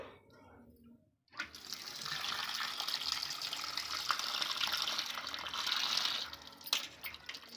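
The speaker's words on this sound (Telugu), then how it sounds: "దీన్ని ఫస్ట్ కడగాలి" Goat head meat is washed under running water in a kitchen, with a steady splashing, gushing stream that starts after a brief quiet moment and continues close and fairly soft, with a few drips and knocks.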